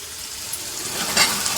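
Tomatoes cook in a drop of oil for mint chutney, a loud continuous sizzle that swells briefly with a burst of hiss, close and without talking.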